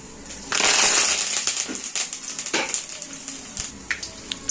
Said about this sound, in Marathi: थोडंसं जिरा मोहऱ्याची फोडणी करून घेऊया